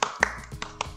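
A few quick hand claps, about four sharp, close slaps spaced unevenly within a second, with a voice faintly underneath.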